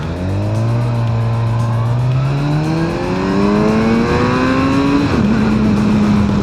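A Kawasaki Versys 1100 motorcycle engine pulls hard through the gears, a loud close whine rising in pitch, dropping briefly at a shift around five seconds, then climbing again, with wind roar underneath.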